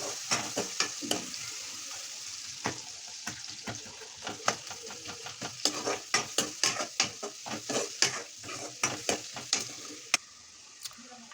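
Onions fry with salt in a pan for paneer curry, a steady sizzle beneath rapid, repeated metal spatula clacks and scrapes against the pan that quicken before stopping near the end.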